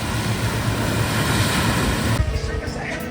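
Sea surf at Nusa Lembongan beach in Bali rolls in close and loud, a continuous wash of breaking water roughened by wind buffeting the microphone.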